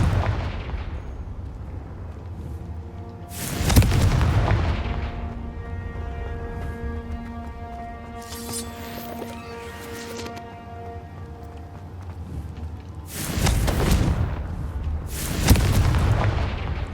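Fiery spell blasts in the Hogwarts Legacy game: repeated booming explosions, four heavy bursts spaced several seconds apart with ringing magical tones and crackles in between, loud and close, no talking.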